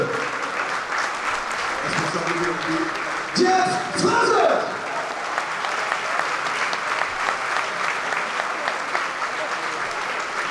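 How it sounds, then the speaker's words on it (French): An audience applauding during the presentation of a rugby club's squad for the new season: continuous dense clapping from a large crowd throughout, with an announcer's voice over it near the middle. "on les applaudit"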